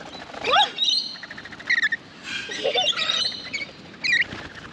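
Several birds chirp and squawk close by in bursts, in an outdoor spot on an Australian road trip where birds perch on people's heads to take fruit; a steady background murmur runs underneath.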